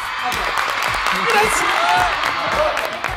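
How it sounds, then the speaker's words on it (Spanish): A studio audience at a MasterChef Argentina reunion claps and whoops in a short, lively burst, with voices mixed into the applause. "Aplausos."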